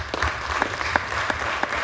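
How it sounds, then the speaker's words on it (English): An audience at a community gathering for survivors of violence claps in a steady, moderately loud round of applause lasting a couple of seconds, with no talking over it. "Give yourselves a nice round of applause."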